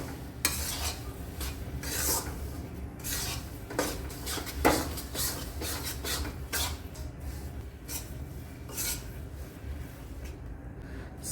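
A mohanthal mixture, made without sugar syrup and tinted with a pinch of colour, being stirred in a pan, giving repeated close scraping and rubbing strokes of a spoon against metal at a steady rhythm.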